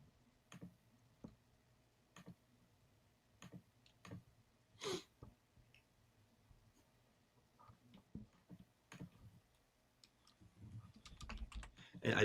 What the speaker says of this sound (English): He's like the Hulk, like trying to use a keyboard and a mouse